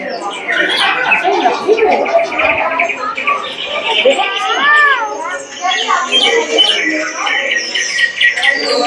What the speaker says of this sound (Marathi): पक्ष्यांचे आवाज, मोर ओरडण्याचा आवाज